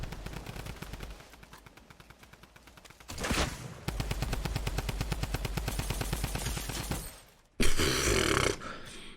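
Rapid automatic fire from a drum gun in Fortnite, a long sustained burst of evenly spaced shots, a brief pause, then another short loud burst near the end, no voices.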